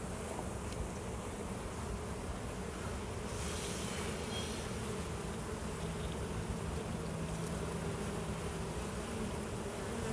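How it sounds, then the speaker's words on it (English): Honey bees hum steadily throughout a hive inspection, a dense, continuous buzz at moderate, even loudness with no talking. "I don't want to kill that bee."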